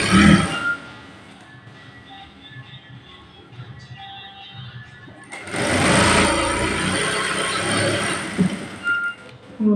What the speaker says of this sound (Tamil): தையலும் ஸ்லோவாக தான் தைக்கிறேன்